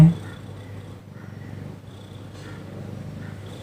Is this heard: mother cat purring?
yes